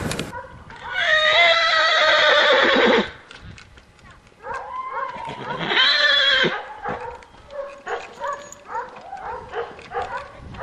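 A horse pulling a sleigh gives two loud, drawn-out whinnies close by, followed by shorter snorts and scattered bursts of sound as it comes to a stop.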